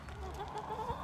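A goat on a muddy farm lets out a short, faint bleat, nearby but quiet, in a brief moment of farmyard sound.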